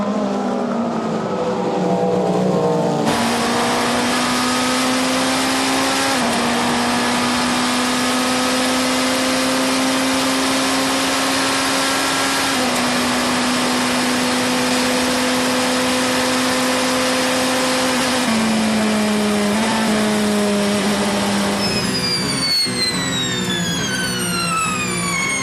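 Ferrari race cars at the 24 Hours of Le Mans roar past one after another. Their loud engines whine and hold a sustained pitch that shifts as gears change, and near the end a car sweeps by with a falling Doppler tone.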